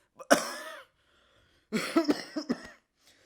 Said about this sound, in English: he had to cough a few times before he began